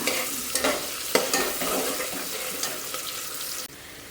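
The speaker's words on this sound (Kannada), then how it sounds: "ಪಲಾವ್ ಸಾಮಾನು ಈರುಳ್ಳಿ ಹಾಕ್ಕೊಂಡು ಚೆನ್ನಾಗಿ ಫ್ರೈ ಮಾಡ್ಕೊಬೇಕು" Onions frying in oil with pulao spices in a home kitchen pan, a steady sizzle broken by several sharp scraping stirs of a spoon, close and fairly loud, ending with a sudden drop in level.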